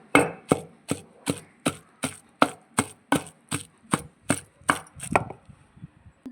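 Green chillies are pounded in a stone mortar, about fourteen sharp, evenly spaced thuds in a steady rhythm, close and loud, ending in a softer scrape.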